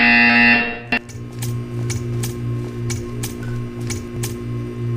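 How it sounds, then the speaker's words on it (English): A loud buzzer blares for about a second in the video game Portal 2, then a steady electronic hum continues with a series of regular clicking ticks. "You will hear a buzzer."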